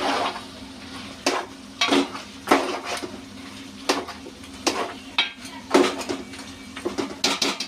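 Three small tomatoes going into a simmering goat head and legs curry: a spoon clanks and scrapes repeatedly against the pan in an irregular rhythm over a soft background sizzle.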